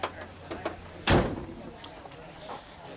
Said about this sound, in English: we can shut the door now